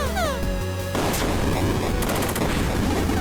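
Bombs detonating in the video game Heritage: A Dragon's Tale, with a loud continuous roar of explosions and crackling booms that fill the whole stretch alongside steady game music.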